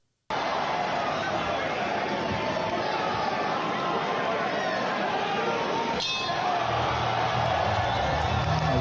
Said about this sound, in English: Just watch this shot and watch the crowd reaction.